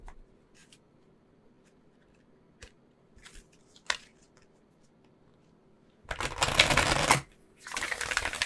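Oracle cards shuffled in two bursts of rapid riffling and flapping, close and loud, after several seconds of faint, scattered taps and handling noises.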